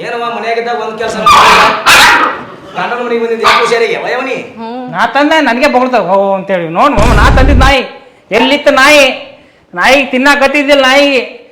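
A dog barks and yelps repeatedly at close range, with whining, tonal cries between the barks. Loud and insistent throughout.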